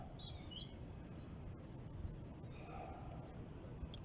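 Geese squawk on a lake at a carp fishery. A few faint, distant calls rise over a steady outdoor hush, and nobody speaks.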